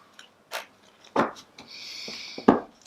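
Soft papery shuffling and riffling of tarot cards in short bursts, close by and quiet, with a few taps and a brief faint hiss.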